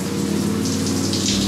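Electric shower pump in a tiny house pushing water up through the pipes, a steady loud whirring hum with gushing water noise running throughout without a break.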